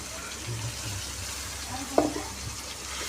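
Tomatoes and soybean chunks sauté in a pan with a low, steady sizzle, and a single sharp clink of a utensil stands out partway through.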